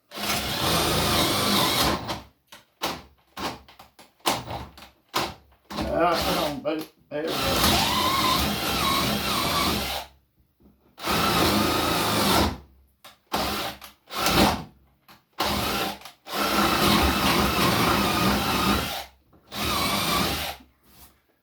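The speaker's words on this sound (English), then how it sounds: "I'm going to drill through here" A power drill bores through the wooden parts of a shaving horse, running in several loud bursts of several seconds each, separated by short pauses where the bit catches and stalls; someone speaks briefly between the runs.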